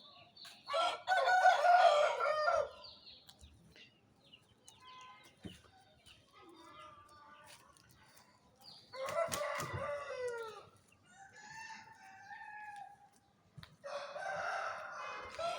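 An Aseel rooster, called Bon murug, lets out loud, close crows in separate bursts, one near the start, another midway and a third at the end, with softer clucks and quiet gaps between them.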